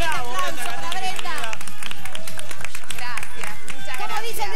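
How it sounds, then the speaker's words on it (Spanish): A television studio audience claps and cheers to welcome an actress, with steady clapping running beneath loud, excited shouting voices. "¡Un aplauso para Brenda!"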